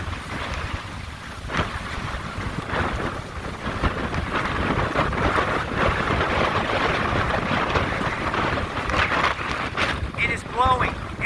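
Hard, gusting hurricane wind roars steadily across a Dauphin Island shoreline, a dense broadband rush with rain and buffeting against the microphone, swelling louder midway, with a voice talking briefly.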